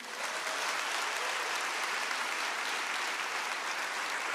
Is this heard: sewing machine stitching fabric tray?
no